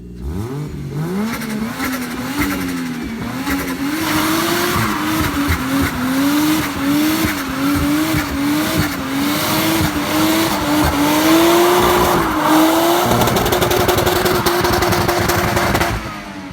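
A Lexus IS300 with a swapped 1JZ engine pulls hard under sustained acceleration, its loud engine note climbing and wavering steadily through gear changes for the full length without a break.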